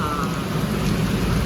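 Rain falls in a continuous broadband wash that stays steady and fairly loud over the short span. No words can be made out.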